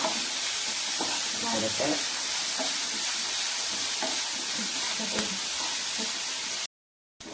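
Sliced onions sauté in hot oil in a pan for a Kerala-style kothu chapati, giving a steady close sizzle with occasional stirring scrapes before a sudden brief cutout near the end.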